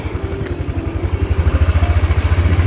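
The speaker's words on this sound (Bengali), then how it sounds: "চলো বাইকটা বের করে নিই" A motorcycle engine starts and settles into a quick, regular thumping idle that grows louder and more even over a few seconds, with a little clatter at the start.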